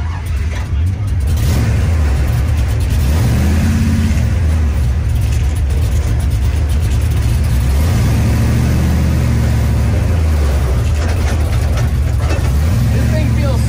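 A stock car Chevelle engine revs loud and close in repeated rising and falling surges as it drifts, with steady engine roar throughout and voices talking over it.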